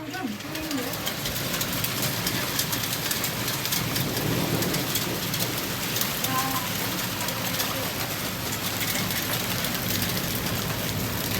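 A summer hailstorm in August, with dense hail and rain pounding surfaces in a continuous, loud, hissing drum that never lets up; voices are faintly audible beneath it.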